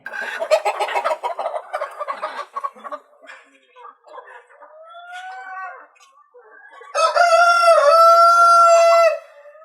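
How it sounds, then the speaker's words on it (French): Chickens cluck and call in short bursts on a farm in Benin, then a rooster crows loudly and up close near the end. "Et en matière de volaille, on a les poulets locaux, les poulets Goliath, on a les cailles, les pintas de chair, les dindons, les canards et les oies."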